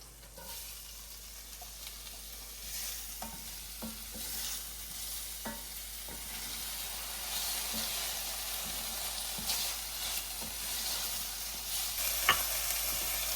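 Chopped onions sizzle in a frying pan with a steady, bright hiss, and a utensil scrapes and stirs them in occasional light knocks.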